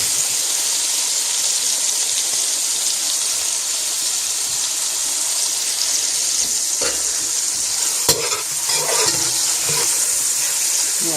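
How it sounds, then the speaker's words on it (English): Chopped onions sauté in a pot with tomato paste, giving a loud, steady hiss and sizzle throughout, broken by a few stirring clatters toward the end. "And then I have my chopped onions that I'm going to add to this."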